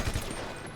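Rapid bursts of upgraded rifle gunfire in GTA 5 survival mode, a couple of quick shots at the start followed by a dense, muffled rumble, fairly quiet.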